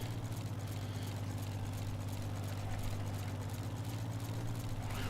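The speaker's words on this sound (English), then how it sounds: "Are you falling asleep to the tractor noises?" Steady low engine drone of a tractor in a farming video game set in 1950, a continuous idling rumble with constant loudness and broadband hiss above, no talk.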